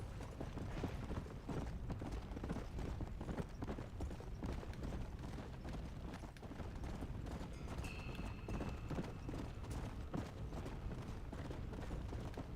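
Steady, rapid hoofbeats of a galloping horse in the video game Undead Nightmare pound without pause, close and loud, with a brief high metallic tone partway through.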